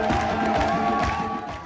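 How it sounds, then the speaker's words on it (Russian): A theatre audience cheers and applauds at an actress's curtain call, a dense, roaring ovation with shouts that runs throughout and fades slightly at the end. "На поклоне актриса срывает овации."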